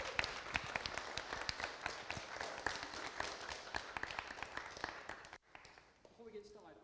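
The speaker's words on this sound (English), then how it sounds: "warm, welcoming round of applause." A warm round of applause from an audience greeting a speaker at a talk, dense clapping for about five seconds before it cuts out, then quiet room sound with a faint voice.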